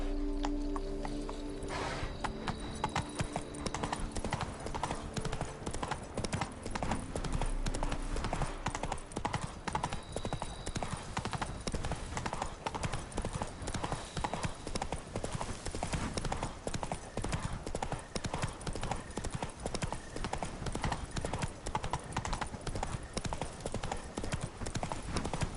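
Roach, a horse in the video game The Witcher 3, gallops in a steady, rapid clip-clop of hooves that runs for the whole stretch, with a brief whinny near the start.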